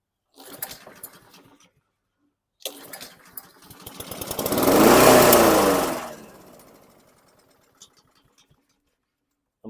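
A 2008 Black Max lawn mower is pull-started: a few short rattling pulls, then the engine catches and roars loudly for about two seconds before sputtering out and dying, followed by faint clicks.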